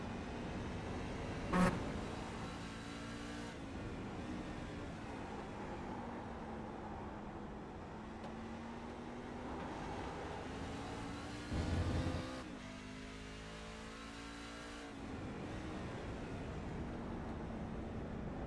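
A race car in a racing video game runs steadily with engine drone and rising pitch as it climbs through the gears, with a couple of brief sharp shift or impact sounds, moderately loud and continuous.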